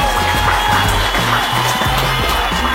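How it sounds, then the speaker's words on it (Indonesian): Audience applause at a health talk show event, continuous dense clapping throughout, loud and close, with musical tones running underneath. "Tepuk tangan Ibu Rara."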